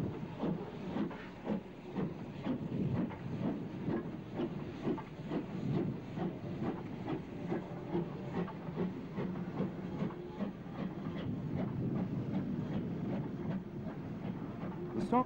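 The Jones Goods steam locomotive, filmed in 1962, makes false starts at a station, giving a series of rhythmic exhaust chuffs with steam hiss. The sound is fairly quiet and continuous, with no voices.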